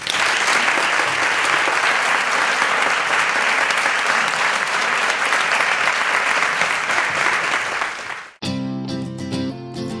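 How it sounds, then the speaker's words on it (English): A banquet audience at a women's achievement awards event applauds, dense sustained clapping filling the room for about eight seconds before cutting off abruptly into music. "Let's celebrate their leadership, their passion, their inspiration once more with a round of applause."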